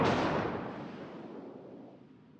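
A single heavy naval gun blast from a battleship in World of Warships booms out, then fades in a long rumbling decay over about two seconds.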